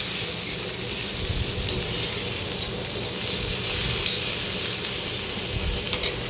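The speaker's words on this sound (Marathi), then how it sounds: "त्याच्यातच आपण टोमॅटो, अद्रक हे सगळं टाकून घ्यायचं आणि टोमॅटो थोडासा मऊ होईपर्यंत आपण हे परतून घ्यायचं आहे" Tomato and ginger sautéing in a pan while cooking a drumstick (shevga) curry: a soft, steady sizzle and hiss with faint scraping, continuous and fairly quiet, with no one talking.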